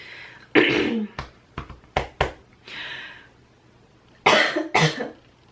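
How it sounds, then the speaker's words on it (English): Several harsh coughs close to the mic, a burst of two or three, then a few short ones, and a final pair of loud hacking coughs. "So tired of coughing."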